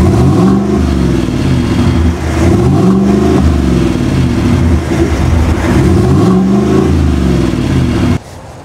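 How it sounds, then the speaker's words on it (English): A 2022 GMC Yukon AT4 with a 6.2-liter V8 and cat-back exhaust revs loudly up close in three swelling bursts, its deep rumble filling the air before cutting off abruptly. "I love the sound of the engine."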